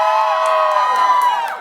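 A large crowd at a campus debate about ICE cheers and whoops loudly in one sustained burst of shouting voices, close and dense.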